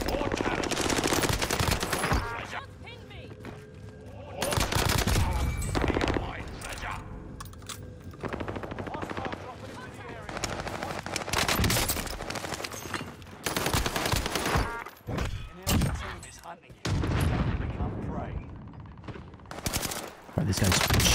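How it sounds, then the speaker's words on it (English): Bursts of STG assault rifle fire in the Warzone video game, loud rapid automatic volleys repeating throughout with short pauses, mixed with other game gunfire and clatter. "This guy's shooting me right now."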